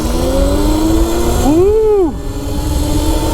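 Qronge X1 Spark mini e-bike accelerating in power mode 2 on a cold day, a steady electric motor whine rising and falling in pitch over constant road and wind noise, close and fairly loud.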